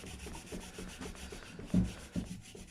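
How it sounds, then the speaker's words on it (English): Steel wool rubbed over the finish of a Gibson Les Paul guitar during a polish: a soft, steady scrubbing of repeated strokes, close and fairly quiet, with two slightly firmer rubs near the end. "finish off with some steel wool"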